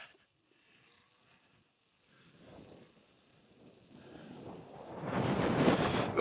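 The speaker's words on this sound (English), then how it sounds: "there's a gust of wind" A gust of wind on the Mount Washington Auto Road, starting faint and rising to a loud, rough rush against the microphone over several seconds.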